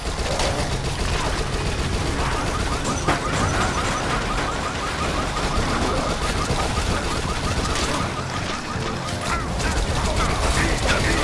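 Rapid SMG gunfire in the video game Dead Nation, dense continuous bursts with mechanical clatter and chaotic action noise, loud and close throughout.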